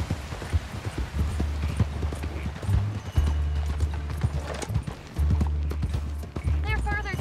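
Horse hooves clip-clop in a steady walking rhythm in Red Dead Redemption 2, close and clear, with a brief neigh near the end while people talk over the hoofbeats.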